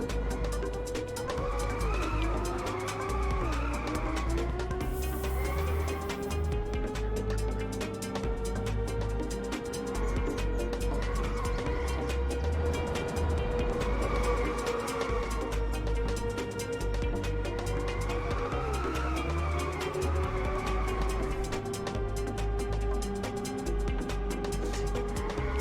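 Racing cars in the drift-racing video game Inertial Drift, with a loud, steady engine drone whose pitch rises and dips as the car drifts and skids through corners, running continuously throughout.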